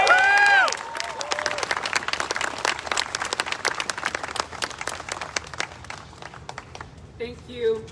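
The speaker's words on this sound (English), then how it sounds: "Keep clapping, keep clapping, keep clapping." Loud applause from a crowd at a Tucson protest and press conference, opening with a brief high whoop, then a dense run of clapping that tapers off before a voice speaks near the end.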